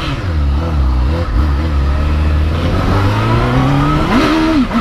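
A BMW M3 accelerates hard on a narrow London street at night, its wheels spinning briefly, the engine droning loud and close with rising revs and a sharp climb near the end.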